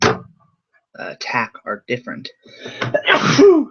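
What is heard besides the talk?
sneeze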